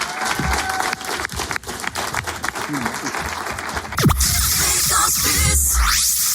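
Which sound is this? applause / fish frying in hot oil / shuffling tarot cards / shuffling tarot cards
applause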